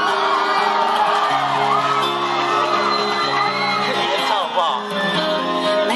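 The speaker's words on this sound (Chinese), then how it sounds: "掌声鼓励" A school auditorium audience at a concert cheers with whoops and shouts, a loud continuous crowd roar over sustained music.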